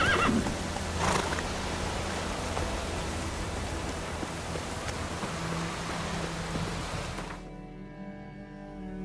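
Roach, a horse in The Witcher 3, neighs loudly near the start and then gallops with continuous hoofbeats under a rushing, noisy game ambience, which drops away abruptly near the end.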